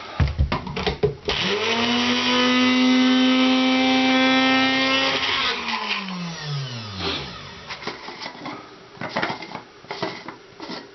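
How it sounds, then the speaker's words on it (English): A blender chopping floral foam whirs loudly and steadily for several seconds, then spins down with a falling pitch, followed by scattered clatter and knocks. "Just pop them into a blender."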